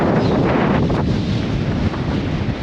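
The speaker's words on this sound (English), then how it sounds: "A lot of wind today." Strong desert wind near Las Vegas buffets the microphone with a loud, steady low roar and broadband rushing, with brief gust swells and dips throughout and no voices.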